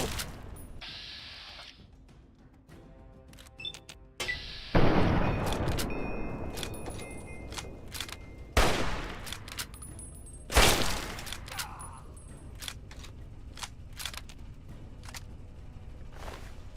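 Hunting rifle shots in the Fallout 3 video game, a few sharp loud cracks at irregular intervals between quieter mechanical clicks and rustles.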